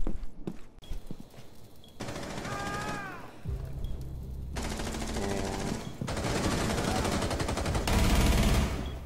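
Rapid bursts of video game gunfire shot through a wall come in several sustained stretches, loud and close, with brief pauses between them.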